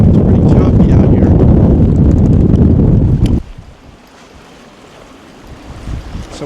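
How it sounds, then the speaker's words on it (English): Strong wind of about 30 buffets the microphone aboard a moored boat in choppy water, a loud roaring rumble that drops off abruptly partway through and leaves quieter wind and lapping in the background. "Today the wind is blowing about 30, so we're not getting off the boat."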